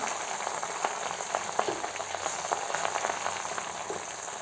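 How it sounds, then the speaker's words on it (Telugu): Gongura (sorrel) leaves frying in hot oil for a Guntur-style pickle give a steady, close, moderately loud sizzle scattered with small crackles and pops, with no voices. "ఇదంతా ఇలా బాగా ఫ్రై అయ్యే లోపల మనం దీన్ని కచ్చా పచ్చగా మిక్సీకి వేసేసుకుందాము"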